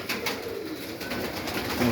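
Pigeons in a backyard dovecote, including a yellow-marbled bird and mated pairs, coo softly and steadily through a close, busy wash of flock sounds, with no talk.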